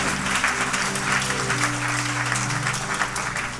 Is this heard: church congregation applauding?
yes